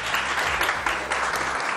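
A studio audience on a morning talk show bursts into loud, dense applause, a brief and continuous wash of clapping that stays close throughout.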